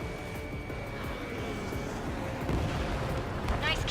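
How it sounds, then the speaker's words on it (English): A missile launch and detonation in the Ace Combat 7 flight combat game, a sustained roaring rumble of jet engines with distant booming impacts building toward the end, under a faint voice. "Missile launched."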